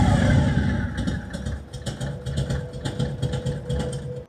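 A vintage 1966–1984 Harley-Davidson motorcycle engine idles with an uneven, lumpy rhythm, loud and close, its putter fading out at the very end.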